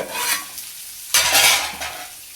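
A spoon stirs vegetables frying for soybean chilli in a pan, with a soft sizzle that swells into a louder burst of scraping and frying partway through.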